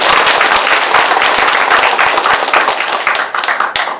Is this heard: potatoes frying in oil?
no